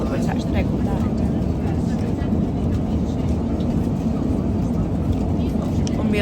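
Constant loud broadband roar of an airplane cabin in flight, a steady droning wash with no clear breaks.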